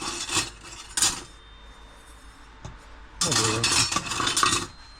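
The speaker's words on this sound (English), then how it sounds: "and then we'll stir that up" A wooden spoon stirs pickling salt into brine for smoked fish jerky, making faint scraping and clinking bursts against the container. Quiet talk comes between the stirring.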